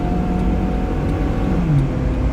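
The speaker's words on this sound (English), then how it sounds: "The car sounds like it's going to overheat again." A car engine runs on a hot day, close to overheating, giving a loud, steady, continuous hum with no voices.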